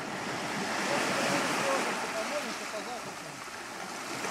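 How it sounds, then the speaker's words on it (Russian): Black Sea waves wash against the shore below a high cliff near Sevastopol, a steady rushing surf mixed with gusting wind buffeting the microphone. "Вот оно, Черное море."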